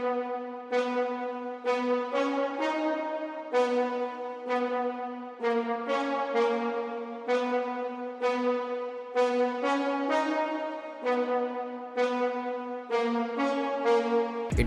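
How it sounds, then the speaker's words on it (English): Sustained synth strings from a progressive house breakdown play a chord progression, each chord swelling in and changing roughly every second with steady, even loudness and no voices. "And later in the breakdown part, we having strings which sounds like this."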